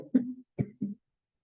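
Several short, harsh coughs from one person, close and fairly loud, sounding as three separate bursts with brief gaps and then silence.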